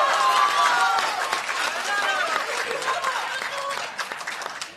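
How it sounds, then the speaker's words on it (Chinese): Audience applause for performers at a Deyunshe crosstalk comedy show, lively clapping at the start that gradually thins out while someone talks over it. "谢谢大家伙这么热情的掌声"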